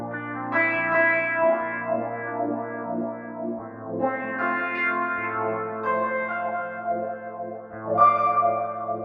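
Sustained Pianoteq 8 electric piano chords drenched in effects, with wobbling tremolo, echoing delay, swept wah tone and a wash of reverb, playing continuously without pause.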